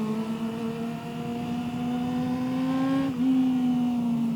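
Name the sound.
250cc inline-four motorcycle engine revving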